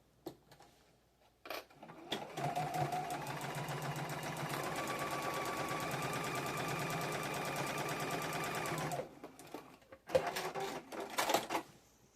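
A sewing machine runs a quarter-inch quilt seam, with a brief start, then a steady, even mechanical whir for about seven seconds before stopping, followed by a few short clicks and handling noises.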